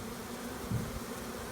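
Honeybees buzz around a hive box set up from a rotten tree colony, a faint, steady close drone that continues without a break.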